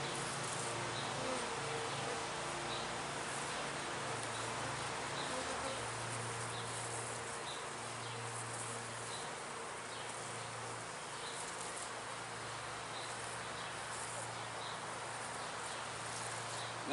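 Honeybees hum steadily inside an opened hive box during an inspection, a continuous close drone with faint bee buzz layered over a low steady hum, no voices.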